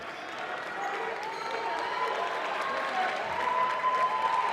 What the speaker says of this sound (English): And Morgan will get a nice round of applause after that dunk as he goes to the bench.